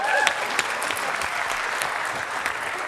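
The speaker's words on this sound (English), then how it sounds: "Let's clap for Esther." An audience applauds Esther during a church teaching session, a steady dense wash of many hands clapping at moderate level, without a break for its whole length.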